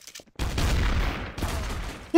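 Bursts of gunfire in the online multiplayer game Trouble in Terrorist Town, a dense rattling volley that starts abruptly, pauses briefly and resumes, loud and close with no talk over it.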